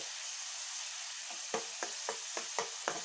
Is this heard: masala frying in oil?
yes